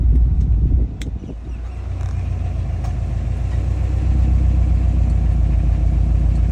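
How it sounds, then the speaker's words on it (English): A Subaru's aftermarket Varix exhaust idles with a steady, deep low rumble, close by, after a brief blip near the start; no talking. "So this is your Varix exhaust."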